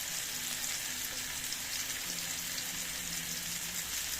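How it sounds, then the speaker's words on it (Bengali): Chicken pieces fry in oil over low heat, giving a steady, even sizzle with a soft crackle that runs unbroken from start to end, close and alone. "এই যে একেবারে চুলার আঁচ কমিয়ে সুন্দর মতো একেবারে উল্টে পাল্টাইয়া ভাইজে নিতে হবে"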